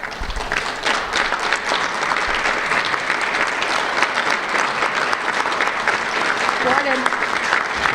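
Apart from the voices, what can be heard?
audience applause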